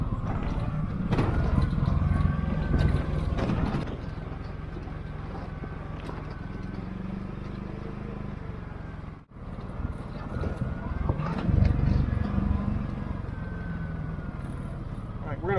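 An off-road vehicle crawling over rutted ground in high range, engine braking on a descent, gives a continuous low rumble with knocks and jolts from the terrain, and a brief dropout midway.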